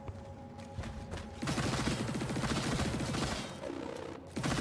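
Rapid automatic gunfire from the Immortal Unchained video game, a dense run of quick repeating shots that starts after a quieter opening and holds steady and loud before cutting off near the end.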